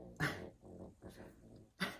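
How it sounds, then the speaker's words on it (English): A dog whimpers in a few short, soft whines, close by and quiet, with no talk over it. "That's my dog."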